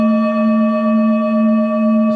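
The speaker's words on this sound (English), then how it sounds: "That's my hourly chime." Hourly chime alert from a trading chart setup, a loud steady electronic tone with stacked pure harmonics sustained evenly throughout, close and alone with no talk.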